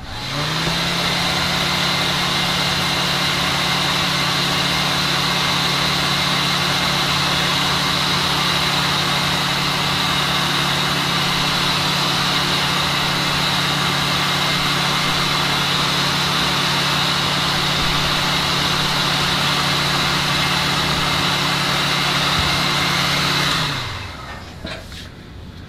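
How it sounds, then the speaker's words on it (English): A heat gun blows steadily on an 18650 battery pack, producing a loud, continuous rushing whir with a low hum. It runs unbroken for over twenty seconds, then switches off and winds down near the end. "And now we'll go back to the heat gun."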